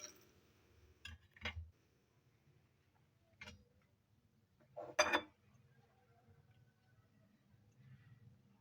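Corn kernels tipped into half a cup of cooking oil in a pan for fried popcorn make a few sparse metallic clinks and one brief rattling burst near the middle, quiet and close, with long near-silent gaps.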